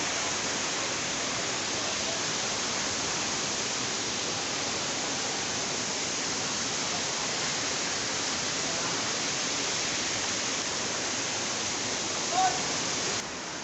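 The main waterfall at Sitakund in Mayurbhanj, with water dropping from a great height, gives a steady, even rushing roar that holds unchanged throughout.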